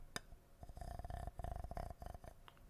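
A low, rumbling purr-like buzz made by rubbing an object, in several sustained bursts with short pauses, close and fairly loud, no talking.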